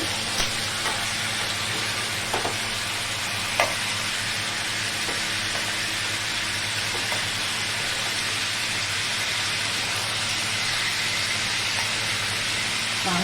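Pieces of fish fry in hot oil as part of a Bengali mutton do pyaza dish, giving a steady, dense sizzle and hiss that runs throughout, with a few faint clicks of a utensil.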